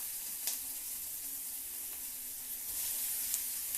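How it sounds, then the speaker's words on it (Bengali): Garlic sizzling and frying in a pan as onions go in, a steady bright hiss of hot oil with a few sharper crackles and pops, close and continuous, no talking. "রসুনটা লাল হয়ে যাওয়ার পর পেঁয়াজগুলো দেবো।"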